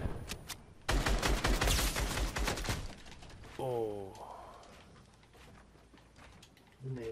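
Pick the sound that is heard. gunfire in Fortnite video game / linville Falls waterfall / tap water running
gunfire in Fortnite video game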